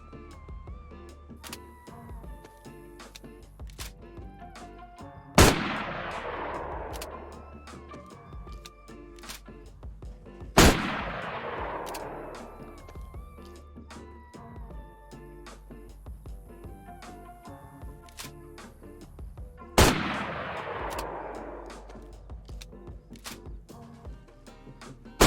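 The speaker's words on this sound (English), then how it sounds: "They have added the BK-12 shotgun." BK-12 shotgun in the DayZ video game firing three loud single shots spaced about five seconds apart, each with a sharp crack and a decaying echoing tail, with faint handling clicks between.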